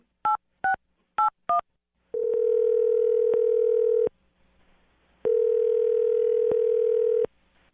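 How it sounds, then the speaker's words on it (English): A telephone call is placed with four quick DTMF keypad beeps. Two long, loud steady ringback tones follow, separated by a short quiet gap, heard close and clean with no voices. "I'm going to dial the phone number right now"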